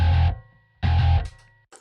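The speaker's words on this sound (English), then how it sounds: "and then it goes into the distortion." A full mix is pushed through a distortion effect, giving a thick, saturated, buzzing tone in two loud bursts separated by a brief quiet gap, with a faint tail at the end.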